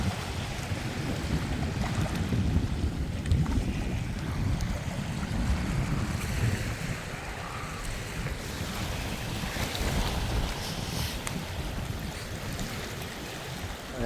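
Continuous washing sea surf rolls in on the shore, a broad rushing roar with wind buffeting the microphone, steady throughout.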